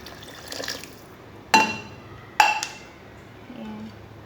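Water poured into a cooking pot while making Kabuli pulao, with brief clinks of a glass cup against the pot between a few soft pouring bursts, close by.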